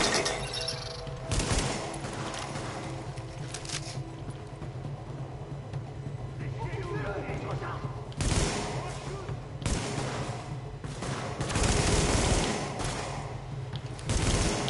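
Gunfire from a looted weapon in the video game The Division, heard as bursts of automatic shots and heavy blasts that flare up and fade over a constant loud game backdrop, with a few quieter gaps between volleys.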